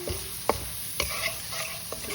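Butter sizzling in a wok on low heat, a steady hiss with a few sharp spatula scrapes and taps at roughly half-second intervals, close and without speech.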